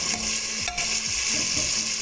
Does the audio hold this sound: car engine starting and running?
no